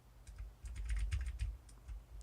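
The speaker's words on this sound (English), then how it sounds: "I like my keyboard, that's really clicky." Clicky computer keyboard being typed on at close range, a quick irregular run of sharp key clicks with short pauses between bursts, moderately quiet and without talking.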